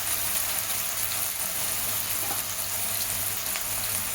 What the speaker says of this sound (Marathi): आपण टोमॅटो कांदा हे सगळं 2 मिनिटावर म्हणजे परतून घेऊया